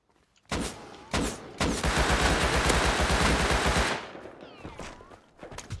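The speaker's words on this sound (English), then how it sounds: "AK tu man, aku nampak AK tembak aku man" AK assault rifle fire in the survival game Rust, sustained loud automatic bursts with a short opening burst, then a long continuous stream of shots that cuts off and leaves quieter game ambience.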